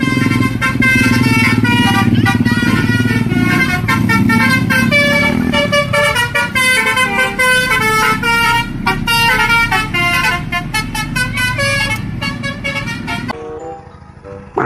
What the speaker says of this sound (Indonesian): Kali ini ada bus Sahabat teman-teman.